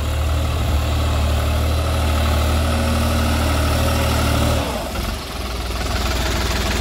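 A New Holland 5620 4x4 70 hp tractor engine runs loud and close while pulling an 11-tine tiller, a constant heavy drone that dips briefly and then resumes.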